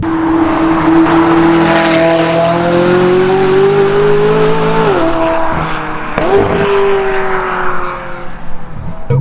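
Close, loud McLaren 540C engine revs up through the gears, then drops on downshifts with brief exhaust crackles and pops.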